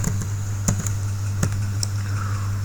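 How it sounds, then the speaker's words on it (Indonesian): Formula being typed on a computer keyboard in Excel, heard as a few sharp, separate key clicks spread unevenly over a steady low electrical hum, close and moderately loud with no voice. "dengan mengetik sama dengan Pearson"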